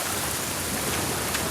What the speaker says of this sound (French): C'est bien ce que je pensais. Il pleut.